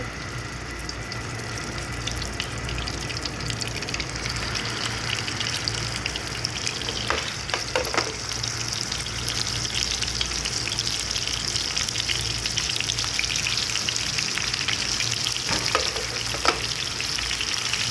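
Frozen seekh kebabs shallow-fry in oil with a steady, even hiss and crackle sustained throughout, with a few faint clicks of utensils in the middle.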